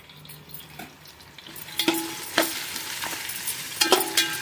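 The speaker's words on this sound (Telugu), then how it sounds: "హై మీద ఉంచి బాగా ఇవి క్రిస్పీ అయ్యేదాకా ఉల్లిపాయలు వేయించుకున్నాము" Sliced onions frying over high heat in a pan until crispy, a bright continuous sizzle broken by a few sharp spatula scrapes and clinks against the pan.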